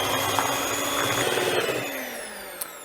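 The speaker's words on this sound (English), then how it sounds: "take a hand mixer and mix it all." An electric hand mixer whirs steadily through gluten-free waffle batter, a loud continuous motor hum that winds down slightly near the end.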